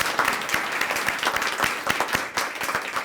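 Applause from an audience at a school Student of the Month morning event honoring its sponsors, dense steady clapping throughout, fairly close and moderately loud.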